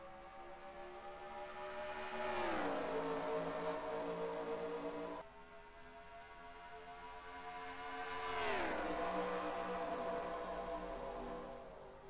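Stock cars race at Darlington in the NR2003 sim, two cars roaring past in turn with rising then sharply falling engine pitch, each pass swelling loud and fading away, with no voices.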